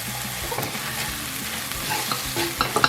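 Onions and tomato paste being stirred in a frying pan for one-pan meatballs, a steady close sizzle with scraping strokes and a few sharper clinks toward the end.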